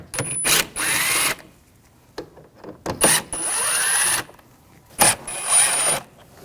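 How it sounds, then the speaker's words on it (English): A power driver with a T25 socket backs out bumper cover screws on a 2006-2009 Audi S4, whirring in several loud bursts separated by short pauses and clicks. "Now I'm going to take these screws out, use a T25 socket."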